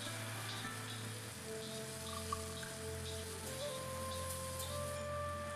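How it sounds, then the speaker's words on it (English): Garlic sizzles in hot oil in a pan while cooking chicken fried rice, a soft, even crackle like light rain that continues throughout, over a faint steady background hum with no talking. "now you're going to add in the garlic and cook this garlic for about 5 seconds"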